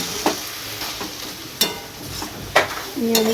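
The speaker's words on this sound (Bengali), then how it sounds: "এবার ডালটা ফোড়ন দিলে হয়ে যাবে" Dal tempering with spices in hot oil, a soft steady sizzle broken by a few sharp clinks and scrapes of a utensil against the pot.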